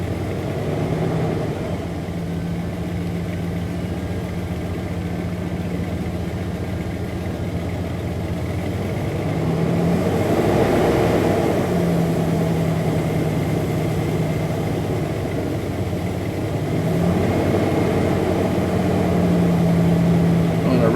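A cold 4.7-liter engine in a 2001 Dodge Dakota idles steadily up close, with its pitch and loudness rising twice in brief revs before settling back.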